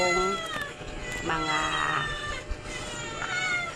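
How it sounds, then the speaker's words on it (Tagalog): Two cats meow repeatedly and loudly close by, giving drawn-out, insistent cries that overlap at times. A voice speaks briefly among them, with a short knock near the middle. "Dalawa kong pusa."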